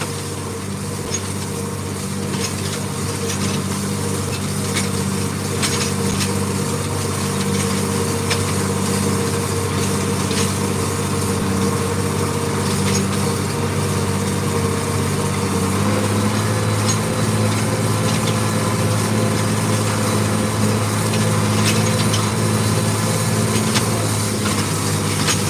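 Tractor engine runs steadily and loud throughout while raking hay on a hot day, a continuous close drone with a constant low hum and no talk.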